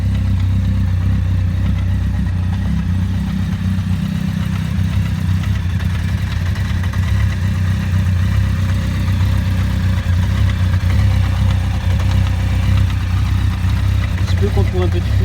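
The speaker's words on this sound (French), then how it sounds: "La moto tourne correctement." A Honda X11 motorcycle engine idles steadily after a service, a loud, even low rumble running without change for the whole stretch, close to the listener.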